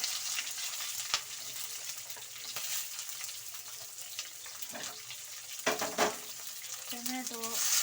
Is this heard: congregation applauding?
no